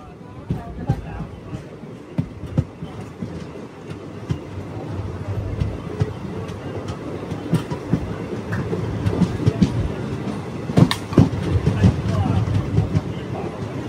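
A new passenger train on its inaugural weekly special run rolls along with continuous rumble and rhythmic clickety-clack of wheels, heard close from on board, with voices talking over it.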